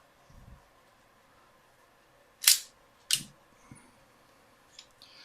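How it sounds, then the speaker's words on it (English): Two sharp metallic clicks ring out close together from a Ruger LCP pistol as its magazine is dropped, followed by a few fainter handling taps in an otherwise quiet room. "we always want to drop the mag first"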